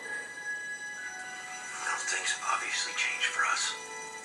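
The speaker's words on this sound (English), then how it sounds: "You can hear the speaker is very loud and full on this. About halfway, I'll turn up near maximum." A Motorola Droid RAZR phone speaker plays audio near maximum volume, giving loud, steady, somewhat tinny sound with tonal bursts that swell in the second half.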